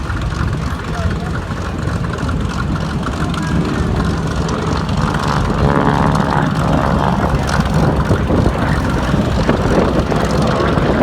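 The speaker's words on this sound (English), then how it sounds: "And now for yet another sound, our Harvard and a T6." Harvard T-6 warbird with its propeller engine droning steadily and loudly at an air show, a rough continuous roar with voices talking over it.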